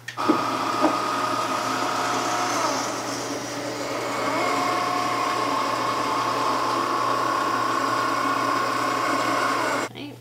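A Cricut Maker cutting machine runs with its rotary blade fitted, giving a steady close mechanical whir and ratcheting hum with a few small clicks, continuing for about ten seconds before stopping abruptly.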